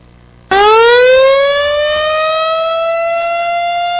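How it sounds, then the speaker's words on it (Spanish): Fire brigade siren of the Cuerpo de Bomberos de Andacollo in Chile, starting abruptly and rising to a loud, steady wailing tone that holds on alone. "La sirena del Cuerpo de Bomberos de la comuna de Andacollo sonó a las 17 horas del día lunes 1 de junio"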